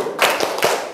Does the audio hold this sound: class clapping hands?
yes